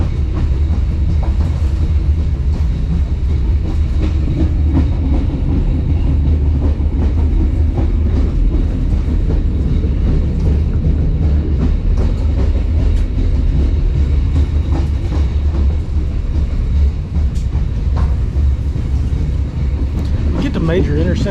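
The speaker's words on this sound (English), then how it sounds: "the train tends to slow down" A train between Durres and Tirana, Albania, rumbles along the rails with low, continuous rolling noise and faint rhythmic clacking, heard from inside, loud and steady.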